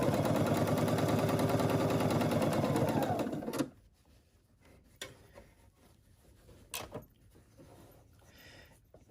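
Sewing machine running a steady straight top stitch in a continuous, loud mechanical chatter that stops abruptly, leaving quiet handling noises and faint clicks.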